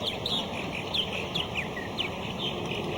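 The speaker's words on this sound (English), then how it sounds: "These are the high-rise dwellers of the bird world, purple martins." Purple martins calling in a busy summer colony: repeated bright chirps and gurgling twitters, several birds overlapping at moderate distance over a steady outdoor background hum.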